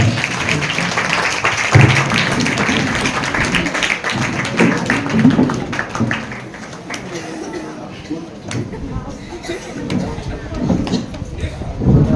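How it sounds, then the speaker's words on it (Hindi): Applause at a school Teachers' Day award ceremony as a best teacher receives a shawl and trophy: a broad, sustained wash of many hands clapping, with an announcer's voice over it and scattered sharper claps standing out. "जोरदार तालियां"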